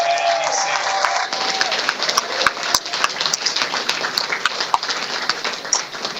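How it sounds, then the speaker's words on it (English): A crowd at a 2024 election night campaign event applauds and cheers, steady dense clapping with scattered whoops and voices mixed in throughout. "Give a big round of applause to my team who worked so hard"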